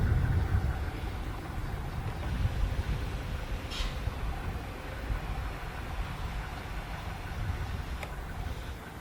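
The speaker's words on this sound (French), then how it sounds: "Je pense qu'on entend plus le camion juste à côté." A truck engine runs right nearby as a steady low idling rumble filling the whole stretch, with faint brief clicks and no talk.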